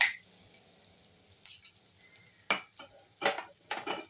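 A spoon scrapes and stirs boiled chopped potato into a poha mixture in a pan over a faint sizzle, with several sharp clinks and scrapes coming in irregular bursts.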